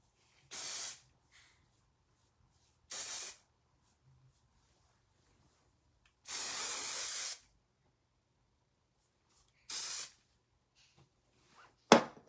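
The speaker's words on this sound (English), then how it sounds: "Look at that hairspray." Hairspray spritzed onto styled hair in short, close bursts: four separate airy hisses of about a second each, with quiet pauses between them and no talking.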